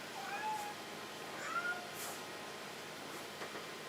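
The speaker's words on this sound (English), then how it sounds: "and the cat's decided to join me" A cat meows a few times at a craft bench while someone glues pieces together, short faint calls over a steady low room hiss.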